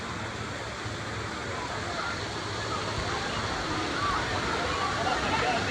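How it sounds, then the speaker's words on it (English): A loud, steady roar of rushing water from a nearby waterfall at Volcano Bay water park, continuous throughout with no breaks. "I know that waterfall's loud."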